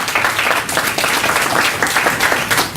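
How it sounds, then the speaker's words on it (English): Warm applause from an audience for presenters at a forum, a thick steady patter of many hands clapping nearby, continuous across the short stretch. "would you please give a warm round of applause to our presenters?"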